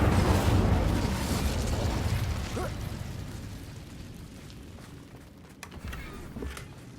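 Incendio fire spell from Hogwarts Legacy unleashing a broad whooshing blast of flame that starts loud and gradually fades into a low rumble, with a few faint crackles near the end.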